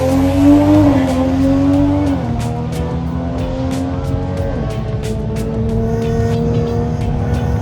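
A turbocharged MK5 Supra launching off the line: a loud, steady engine drone shifts pitch once early, then holds a high rising tone with a crackly edge and rapid popping bursts, close and continuous.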